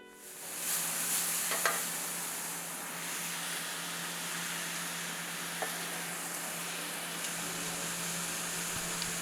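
Red onions fry in a pan, giving a steady close hiss and crackle that holds evenly throughout, with a few soft pops and no one speaking.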